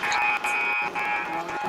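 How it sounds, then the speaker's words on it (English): A loud, sustained ice hockey period-end buzzer blares at a game between MLAC Scafom-rux and Strathcona Warriors, holding steady with only brief dips for the whole stretch. "throws that to the open ice and lets the buzzer come"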